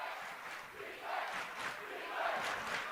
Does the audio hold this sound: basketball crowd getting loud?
yes